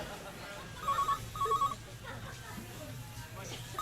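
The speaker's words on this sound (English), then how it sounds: "phone rings." A telephone bell rings in two short bursts over a low background hum, fairly close and moderately loud, then the room goes quiet.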